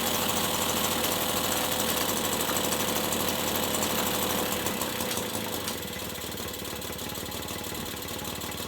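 A 1967 Mobylette AV 49 moped running again after thirty years idle: a small two-stroke engine idles close by with a rapid, buzzing, slightly uneven putter that eases a little toward the end.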